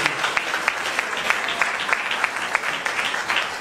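Church congregation applauding, a steady run of many hands clapping in a regular rhythm, fairly close and continuous for several seconds with no voices over it.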